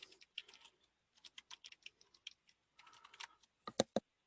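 Rapid clicky keystrokes on a computer keyboard while entering a cluster ID in a line-balancing analysis tool, close and clear, in uneven bursts with short pauses and two louder key strikes near the end.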